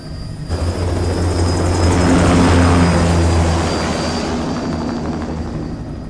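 A large aircraft in Metal Gear Rising: Revengeance lifts off with a steady, loud engine roar and deep droning hum that swells midway and holds, with no voices.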